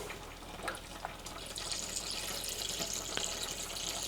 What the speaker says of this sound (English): I'll just fill that up with some lemon juice concentrate